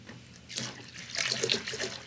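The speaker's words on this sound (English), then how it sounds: "Pour the water from both of the half-filled jugs into the two-gallon bucket." Water from two half-filled jugs pours into a two-gallon bucket, a soft splashing trickle that builds and swells over a couple of seconds, close by and fairly quiet.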